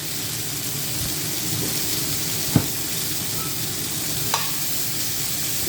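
Shrimp, ginger and vegetables sizzle in an oiled stir-fry pan, a steady broadband hiss with a couple of sharp pops and a brief clatter from the pan, no talking.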